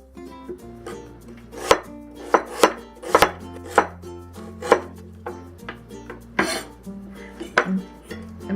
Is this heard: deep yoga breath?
no